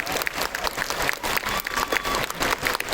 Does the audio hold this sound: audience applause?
yes